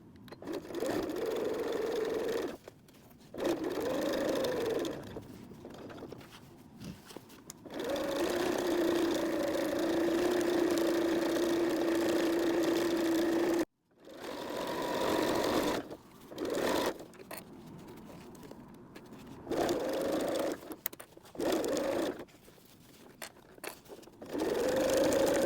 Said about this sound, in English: Now we're gonna top stitch all the way around.